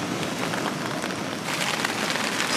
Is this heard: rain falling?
yes